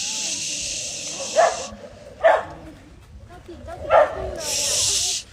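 Dogs bark sharply in three separate bursts amid growling and hissing, up close, with steady high background noise at the start and end.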